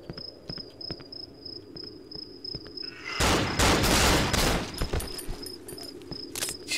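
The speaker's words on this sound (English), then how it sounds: "Did you see that headshot though?" Gunshots in the horror game Cry of Fear ring out in a loud, rapid volley lasting a couple of seconds, set against a steady chirping insect ambience that continues before and after.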